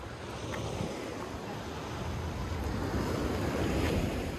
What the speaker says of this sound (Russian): Но волны потихоньку поднимаются.